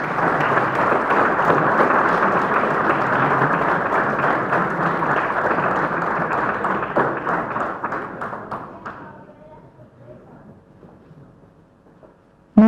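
An audience at a book presentation applauds loudly and steadily for about eight seconds, then the clapping thins out and fades to near silence, ending with a sharp thump.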